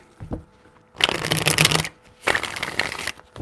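Two quick bursts of tarot cards being riffled and shuffled, close and crisp, separated by a short pause, with no talking over them.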